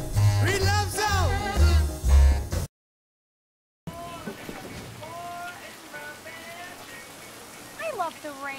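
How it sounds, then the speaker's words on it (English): Steady rain falls in a continuous wash of noise, with a voice talking over it at first, then a brief silence before the rain resumes under occasional distant sounds. "I love the rain."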